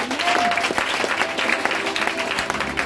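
Church congregation applauding to cheer for God, a dense, steady burst of clapping from many hands filling the room.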